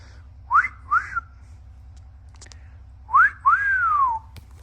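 A person whistles short rising notes, two quick chirps, a pause, then two more with a longer falling tone, over a low engine hum.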